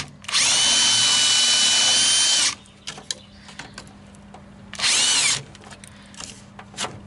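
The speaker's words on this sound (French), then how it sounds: "Je perce à 4." A power drill boring holes through a licence plate during Citroën Traction 11B door restoration work, whining loudly in a steady two-second run, pausing, then a shorter second burst, with faint handling clatter between.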